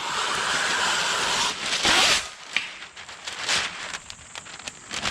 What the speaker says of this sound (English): We go on with our paper machine.